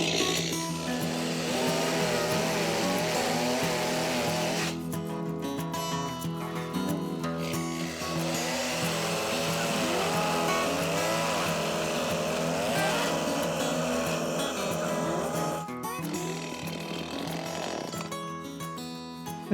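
Chainsaw with a dulling blade cutting wood, engine snarling loudly and continuously with pitch wavering as it bogs and revs through the cut, a couple of brief drops in load along the way.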